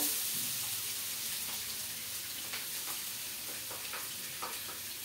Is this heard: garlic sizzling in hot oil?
yes